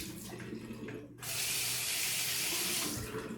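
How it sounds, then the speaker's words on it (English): Tap water gushes into a sink after a brief lull, a steady close hiss for a couple of seconds while a budget Farmhand safety razor from Adopted Acres is rinsed, with no talking. "we've washed the razor again"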